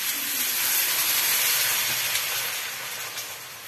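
Pot-au-feu broth poured into a hot pan with meat, a loud broad hiss and sizzle that swells quickly and then eases slightly, with no voices.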